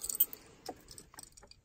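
A set of keys for a 1995 Chevy truck with a 6.5 liter diesel engine jingles in short metallic bursts, close and fairly quiet, with scattered clinks and pauses and no one talking.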